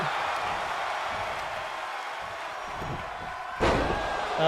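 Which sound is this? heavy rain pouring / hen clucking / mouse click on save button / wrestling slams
wrestling slams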